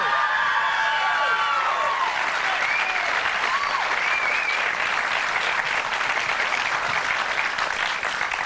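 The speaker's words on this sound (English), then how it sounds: "Can I get a round of applause?" A television studio audience claps steadily for several seconds, a dense wash of applause with a few whoops near the start.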